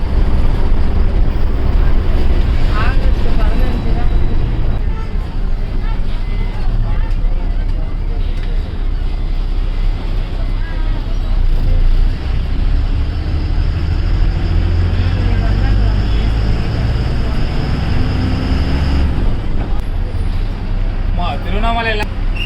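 Tamil Nadu state TNSTC bus on a long-distance route, coming down off a bridge and U-turning into the Tiruvannamalai new bus stand: a loud, constant engine drone and road rumble inside the cabin, with someone talking over it.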